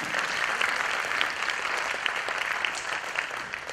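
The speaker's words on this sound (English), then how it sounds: "I think this requires a clap." Audience clapping at a medal award presentation, steady moderate applause from a crowd lasting the whole stretch.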